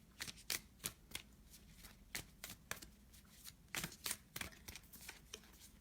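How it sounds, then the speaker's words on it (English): A deck of animal oracle cards is shuffled by hand, giving quick, crisp riffling bursts and soft slaps in an irregular rhythm, close and fairly quiet. "I'm going to pull an animal card for the week."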